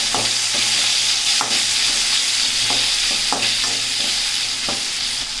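Sliced onion with a little salt frying in hot oil in a pan, a steady close sizzle with regular scraping stir strokes of a spatula against the pan.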